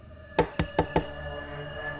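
Four sharp knocks on a door in quick succession, close and loud, followed by quiet room tone with no voices.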